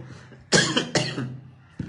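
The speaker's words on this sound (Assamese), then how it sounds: "মোৰ অলপ কাহ হৈ আছে" Two harsh, close coughs burst out one after another during a live stream, followed by the faint start of a third, with a quiet room before and between them.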